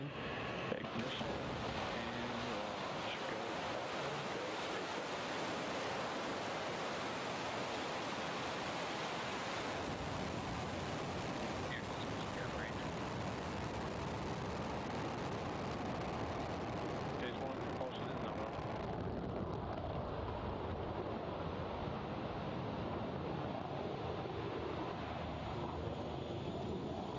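SpaceX Falcon rocket launch for the NROL-167 reconnaissance satellite mission just after ignition: a steady, faint, distant broadband roar that rumbles on without a break.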